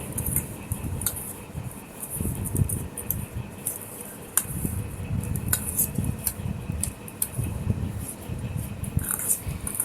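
Spoon stirring spices with raw green chillies into chopped raw mango for a tangy mango pickle, giving soft repeated scraping and clinks against a metal dish, fairly quiet and close, with no talking.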